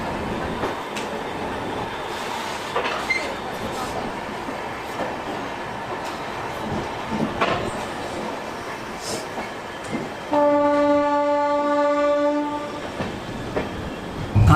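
A Kashi Mahakal Express train at a large Indian railway station, with steady rolling rumble and rail noise, then a loud sustained horn blast sounding from about ten seconds to the end, fairly near.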